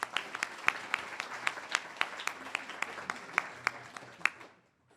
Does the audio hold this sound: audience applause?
yes